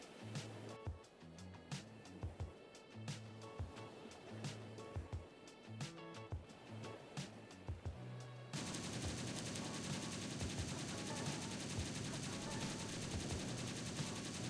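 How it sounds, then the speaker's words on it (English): Anti-aircraft gun in a naval video game firing at aircraft: rapid bursts of gunfire in repeated rhythmic volleys, then a steady dense roar of continuous fire with a low, wash-like background. "later we are going to check whether the AA gun started to attack the aircraft"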